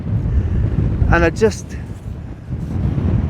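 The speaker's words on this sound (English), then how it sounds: "because it is so windy, it doesn't matter about freezing the water" Gale-force wind buffets a coastal lighthouse at Elie, a steady low roar filling the whole clip, with a brief spoken word cutting in near the middle.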